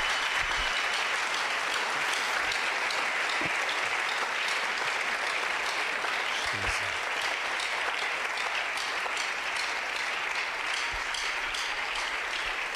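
A church congregation claps steadily and fairly loudly throughout, a dense sustained applause from a large crowd with no clear pauses.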